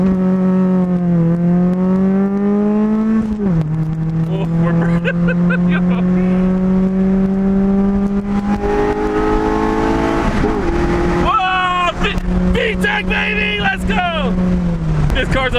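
A cheap, worn Honda Civic engine revs and drones loudly from inside the car, pitch rising and falling through gear changes as it strains while driving, with a voice talking over it.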